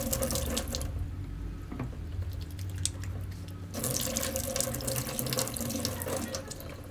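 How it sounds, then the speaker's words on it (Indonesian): Tap water runs steadily into a sink while hands are washed, a continuous close splashing rush with shifting intensity and brief drips, no talking. "Pertama, mencuci tangan."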